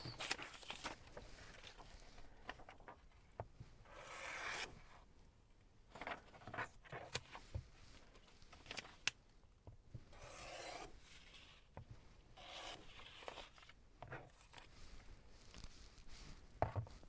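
Quiet scraping, rasping cuts trim excess quilt fabric pieces close by, a series of uneven strokes and rubs with occasional small taps, no talk.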